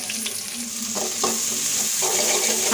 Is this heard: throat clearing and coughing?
no